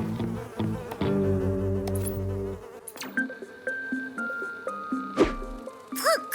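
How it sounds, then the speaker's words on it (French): Cartoon flies buzz in short, wavering tones, starting as a dense, loud drone and breaking into lighter, scattered buzzes mixed with other cartoon sound effects. "toutes ces mouches autour de Sam"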